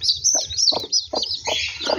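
Chicks on a small farm peep in a continuous high, shrill chorus of overlapping chirps, with softer clucking underneath.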